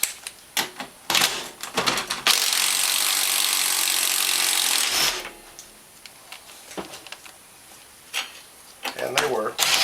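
Sharp ratchet clicks in quick bursts as tight, rusted 12 mm bolts are loosened on a Kawasaki Brute Force 650/750 ATV engine, with a long loud whirring stretch in between and someone talking intermittently.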